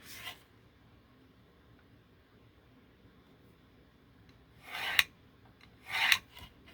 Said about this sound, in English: Turn it around, score this side 1/2 inch.